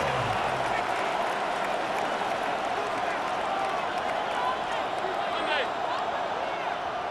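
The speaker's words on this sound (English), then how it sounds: "the crowd getting into it as we come up on a big 3rd down" Stadium crowd noise from the Madden NFL 26 football video game swells steadily ahead of a big third down, a dense, constant roar with scattered claps and whistles running unbroken throughout.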